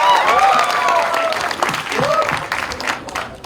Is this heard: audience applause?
yes